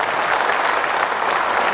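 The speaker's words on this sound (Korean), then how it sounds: "이 대목에서 이미자 국회의원님 박수 한번 쳐주세요" An audience at a city academy lecture breaks into steady applause for a member of the National Assembly, a short burst of dense clapping throughout.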